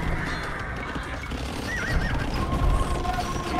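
Horses neigh and whinny amid clip-clopping hooves and battle clatter in the Age of Empires II strategy video game, several calls rising over a busy game soundscape, with no talking.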